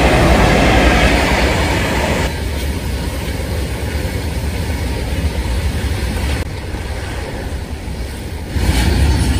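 A passenger train rolls past on rails, loud and close, with a continuous rumbling roar and rhythmic clatter of wheels that briefly dips and swells again over the full length, no talk.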